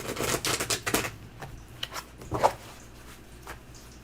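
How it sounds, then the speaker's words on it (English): Tarot cards being shuffled by hand, a close run of rapid riffling bursts and soft flicks with irregular pauses between them. "I've already got that in my mind as I'm shuffling here"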